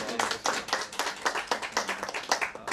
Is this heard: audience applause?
yes